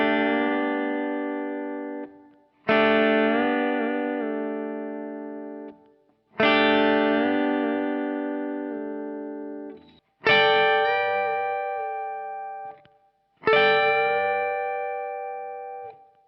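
Electric guitar played with distortion and reverb, a triad voicing with the major second bent up to the major third, struck five times in slow succession, each chord ringing out and sliding upward before fading.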